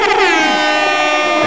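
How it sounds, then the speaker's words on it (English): Air horn sound effect, one loud sustained blaring blast with a rich buzzing tone, alone and close, lasting the whole short moment. "Let's give him some air horns."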